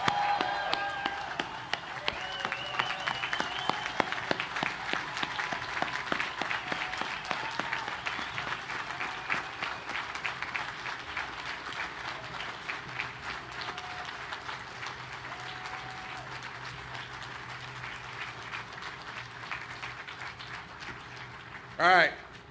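A large crowd of sailors and guests aboard the destroyer USS Jack Lucas (DDG 125) give a long, sustained round of applause with dense clapping and some cheering, fading slightly near the end before a brief loud burst.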